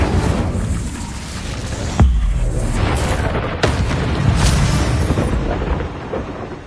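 An Incendio fire spell going off in Hogwarts Legacy during a fight with a giant spider: loud fiery bursts with sharp booming hits about two seconds in and again near three and a half, over steady rumbling combat noise.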